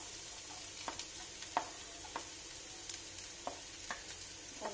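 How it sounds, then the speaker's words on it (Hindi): Chopped onion sizzles quietly in a pan along with carrot while noodles are being cooked. It makes a faint, even frying hiss with soft clicks of stirring every second or so. "और अब मैं इसमें डालूंगी प्याज।"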